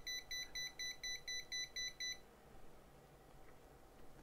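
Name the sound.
PC fan controller alarm beeping when the fan is stopped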